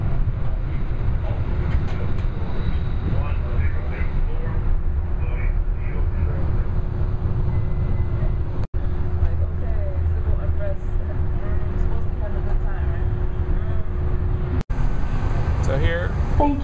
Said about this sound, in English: Thank you for riding Atlanta Streetcar.